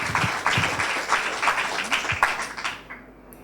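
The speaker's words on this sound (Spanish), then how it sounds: "Le vamos a dar un aplauso." Applause from a church congregation after worship, uneven bursts of clapping with a few distinct claps standing out, fading away toward the end.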